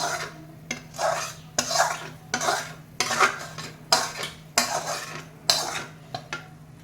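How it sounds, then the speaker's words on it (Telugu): Jaggery syrup is strained while a metal pot is handled, producing a run of repeated scraping and clanking strokes at a steady rhythm, close by, over a low steady hum. "అందుకని బెల్లాన్ని మనం వడగడతాము"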